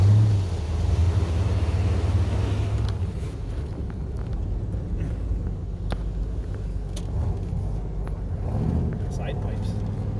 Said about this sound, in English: Side pipes. You can hear them.